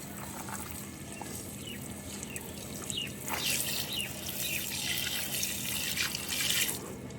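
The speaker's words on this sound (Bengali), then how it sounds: "তো এখন তো এই যে আমি গাছে পানি দিচ্ছি" Water spraying and splashing onto garden plants during watering, a steady broadband wash with brief louder gushes midway and near the end, outdoors with faint chirps in the background.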